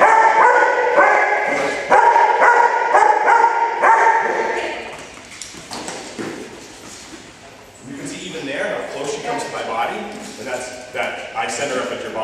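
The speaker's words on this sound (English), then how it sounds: "I hold it up, and just let the dog bite." A dog barks and yips repeatedly during bite training, loud and close in bursts early on, then quieter activity with a trainer talking throughout.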